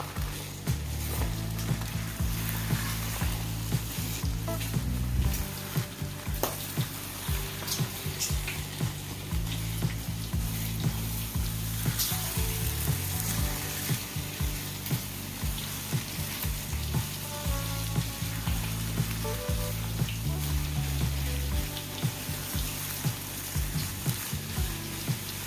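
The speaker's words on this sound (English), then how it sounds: "Get these eggs just stirred up and scrambled." Eggs being stirred and scrambled in a very hot pan, a dense steady sizzle with constant light scraping and spatula clicks throughout, close and unbroken.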